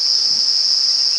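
A cicada on a safari drive at Djuma Game Reserve gives a loud, steady, piercing buzz at close range, unbroken for the whole second and a bit with no talk.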